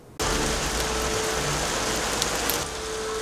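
Light rain starts abruptly and patters steadily outdoors near an offset smoker cooking with post oak, a dense, even hiss lasting a few seconds with no talking.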